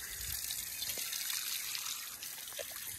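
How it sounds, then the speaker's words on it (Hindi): Running tap water pours steadily into a sink while dishes are washed, a continuous broadband splashing wash with a few faint clinks, no talking. "इधर दुआ धोवन लग गई है"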